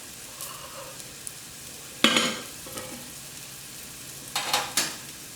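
Pieces of salmon browning in a hot pan give a soft steady sizzle, broken by several sharp scraping stirs and clatters of a utensil against the pan. No one speaks.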